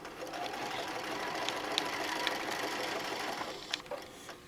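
Sewing machine with a walking foot running a straight stitch on fabric for a name tag and phone bag, a steady close mechanical whir held throughout with a few small clicks near the end, no talk.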